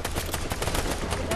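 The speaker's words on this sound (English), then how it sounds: "I'll try to take the Isle Guards out with the pistol" Rapid pistol fire in the shooter game Britestorm, a dense string of loud, close gunshots in quick succession with no pause.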